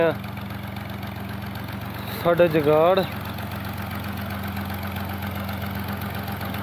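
A Fiat 480 tractor engine idles steadily in a Punjab, Pakistan village, a low continuous throb running throughout while someone speaks briefly over it.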